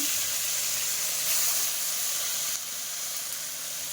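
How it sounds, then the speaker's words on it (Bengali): Whole spices, a bay leaf and a dried chilli drop into hot oil, producing a bright, continuous hissing sizzle close up that swells briefly and then settles slightly quieter. "ফোড়ন, তেজপাতা, একটা শুকনো লঙ্কা দিয়ে দিলাম"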